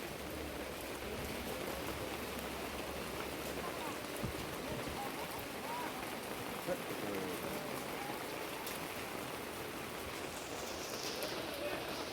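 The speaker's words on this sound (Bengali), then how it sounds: "বৃষ্টিও কিভাবে পড়ছে দেখুন চরম বৃষ্টি পড়ছে" Torrential downpour during a storm, heard from shelter at a cremation ground: an even, unbroken roar of rain lasting throughout, loud and close, with no clear break.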